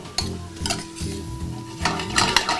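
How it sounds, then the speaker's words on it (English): Spices cook in hot oil in a pan for a roasted pork tenderloin dish, sizzling steadily while a utensil stirs and scrapes with repeated clinks, close and fairly loud, no voices. "We're going to let these spices just cook into the oil"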